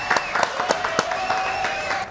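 Studio audience applause on a French television show, brisk clapping with distinct sharp hand claps up close and a faint voice underneath throughout.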